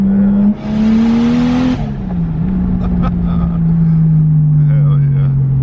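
A drift car's engine holds a loud, steady high drone close by, with a rush of tyre wheelspin noise early on, then the revs ease and drift lower; a voice talks briefly over it.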